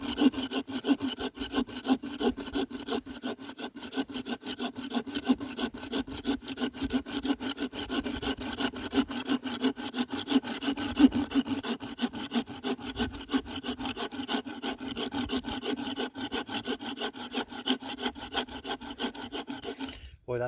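Resinous fatwood is sawed or scraped into fire dust, a fast steady rasping rhythm of short strokes that continues close and unbroken, with no talk.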